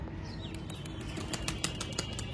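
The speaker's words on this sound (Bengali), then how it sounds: "আর ওই পাখিগুলো কিন্তু হেভি ওড়ে, আমার পুরোনো পায়রাগুলো।" Old domestic pigeons take off and fly overhead, their wings flapping in quick broadband bursts that come and go against a steady outdoor bed of noise with no talking.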